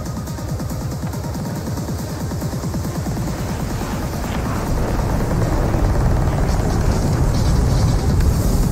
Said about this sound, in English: he's doing almost the whole show with the full afterburner on